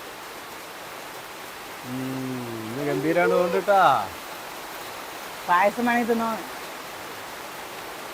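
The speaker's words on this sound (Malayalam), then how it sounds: "നല്ല മഴ തന്നെയാണ്" Heavy rain falls in a steady, even hiss throughout, while people talk briefly over it.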